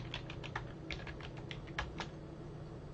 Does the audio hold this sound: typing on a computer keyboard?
yes